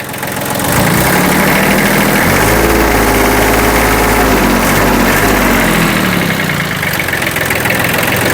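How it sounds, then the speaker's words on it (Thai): A loud diesel engine of a Kubota B1600 tractor rumbles steadily, then revs up and winds back down, its pitch rising and falling under heavy mechanical vibration. "เดี๋ยวเร่งเครื่องให้ดูสักครู่นะครับ"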